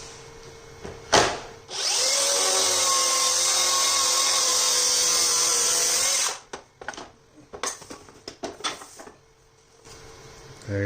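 A power tool cuts through a wood slab of cedar, beech or walnut, a loud steady whirring buzz lasting about four seconds after a brief start, followed by clattering handling noises and knocks.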